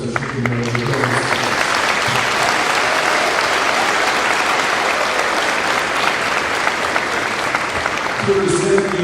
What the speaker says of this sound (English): I ask you if you would provide a round of applause